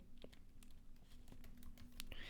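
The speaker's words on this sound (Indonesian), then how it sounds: "Saya bisa ngetik di sini" Soft, rapid keystrokes on a computer keyboard while entering text, a quiet irregular patter of clicks heard close up with nothing else over it.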